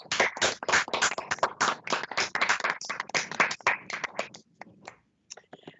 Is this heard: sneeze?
no